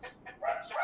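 A rooster crows faintly in the background over about a second, its drawn-out call partly masked by room noise, with no speech over it.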